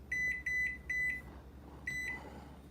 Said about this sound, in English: now we're going to set the timer for 30 minutes